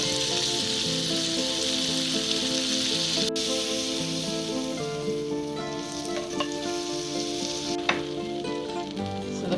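Four tablespoons of Irish butter sizzle and crackle in a frying pan, a steady close hiss with occasional clicks and pops and no talk.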